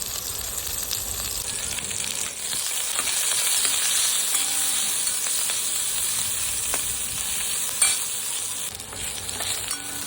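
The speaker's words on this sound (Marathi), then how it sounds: "दोन कांदे घेतले एक कटिंग करून थोडंसं त्याला आपण फ्राय करून घेऊया" Chopped onions frying in a pan for a matar paneer dish, giving a steady close sizzle and hiss with faint stirring scrapes and a small pop near the end, no voices.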